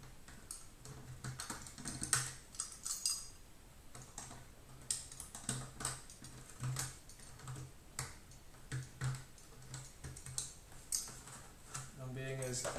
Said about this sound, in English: just taking light shavings off, following the line of the cut